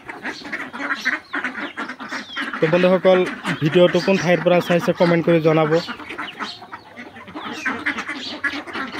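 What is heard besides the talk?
domestic ducks quacking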